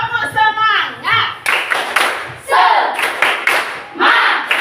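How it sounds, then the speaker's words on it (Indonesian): A group performs a rhythmic clapping chant, tepuk semangat, in a classroom or training session: sharp patterned claps alternating with energetic shouted chanting voices, loud and close. "tepuk semangat"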